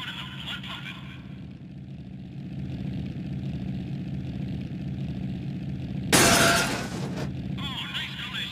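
A car smash-up in a racing video game: a sudden loud crunching impact with shattering debris bursts in near the end over a steady idling engine drone, then fades back to the engine.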